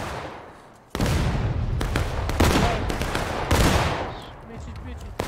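Gunfire rings out in the Civil War shooter War of Rights: several loud, sharp shots and volleys crack in quick succession after a quiet start, each trailing off into echo.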